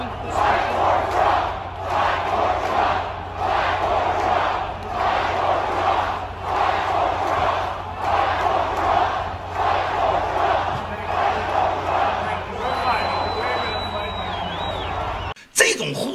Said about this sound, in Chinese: 全场万众激情欢呼，都喊着川普总统要再干4年，我们爱你，我们要为川普而战